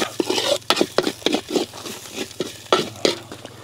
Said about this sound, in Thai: มื้อนี้เฮาสิผัดแบบแห้งๆ